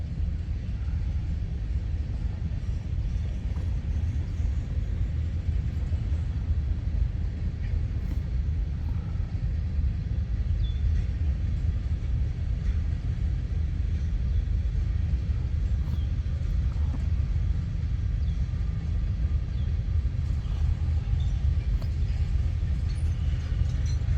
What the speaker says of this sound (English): This looks like maybe a work train.